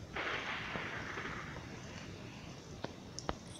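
A blast in the Minecraft video game opens with a broad burst of noise that tails off, followed by a few sharp pops and cracks near the end, with no talking over it.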